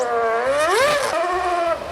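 Formula 1 car with a V8 engine running on a street circuit before a huge crowd, a loud close screaming engine note that rises sharply as it accelerates, then settles into a steady high whine.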